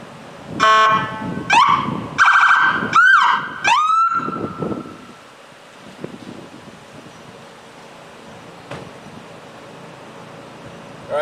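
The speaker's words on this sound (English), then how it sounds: "that was my lights and sirens." A police siren blares up close in a series of short yelps and whoops, then cuts off, leaving quiet room tone with a few faint clicks.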